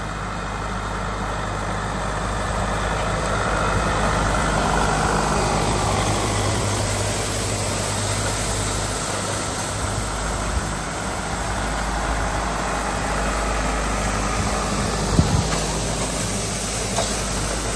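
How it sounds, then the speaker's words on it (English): International 5288 tractor engine running on a farm during hay and straw work, a loud, steady low rumble with constant drone that continues unbroken throughout, with a faint knock near the end. "that is a pretty nice International 5288 tractor"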